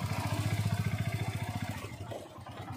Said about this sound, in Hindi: आजिद भाई बाइक चला रहे हैं